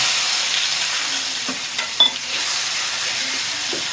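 Ginger, garlic paste, salt and onion paste frying and being stirred in a pan, giving a steady close broadband sizzle with a few soft scraping knocks of the spoon, no voices.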